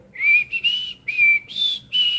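A person whistles a short, wavering tune in several breathy phrases that rise and fall, close and clear with nothing else behind it.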